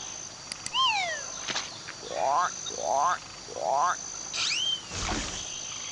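Cartoon frog calls in the children's game Oscar the Balloonist, set at a lake in summer: three rising croaky chirps in a steady row, preceded and followed by whistling swoops and other game sounds.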